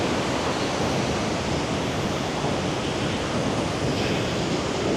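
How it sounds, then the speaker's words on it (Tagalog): A loud, constant roar of rushing water from a very wide waterfall in Bislig City, Philippines, fills the whole clip, broad and unchanging, with no one speaking. "Napakalakas ng tubig niya."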